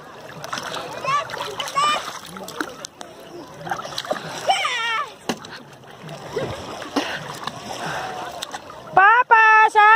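A toddler splashes while swimming in a river, with close, repeated watery slaps and sloshes under lively adult talking and a voice, growing louder and busier toward the end.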